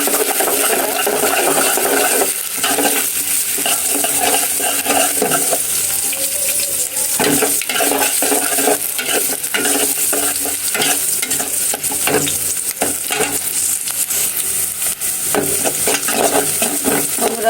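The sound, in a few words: chopped onions frying in oil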